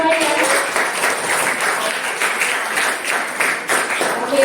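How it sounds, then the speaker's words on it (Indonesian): A group of participants claps together at the close of an Indonesian teachers' coaching session, a dense, steady patter of hands that fills the room for several seconds, with faint voices mixed in under it. "Beri tepuk tangan untuk kita semuanya."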